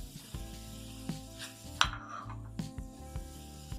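Potato fenugreek snacks frying in hot oil, with a steady sizzle and crackle over a low kitchen hum, plus occasional soft clinks and stirring knocks of a utensil against the pan.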